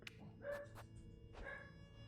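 Several dogs bark in the distance, a few quick, sharp yaps in two short bursts, faint beneath a low household hum.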